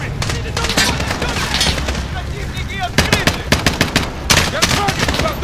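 Machine gun fire in Call of Duty Modern Warfare rattles in dense rapid bursts, growing sharper and louder toward the end, with shouted voices mixed in.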